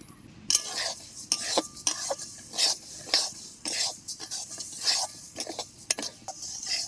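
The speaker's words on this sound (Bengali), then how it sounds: "কড়াইটা কিন্তু গরম হয়ে গেছে মুগের ডালটা দিয়ে দিচ্ছি" Moong dal dry-roasting in a hot kadai, with a spatula scraping and tossing the lentils in quick, separate strokes. The sound is close and moderately loud over a quiet background, with no talking.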